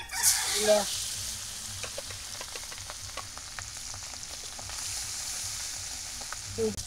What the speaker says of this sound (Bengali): এই চুলে মাছ ভাজা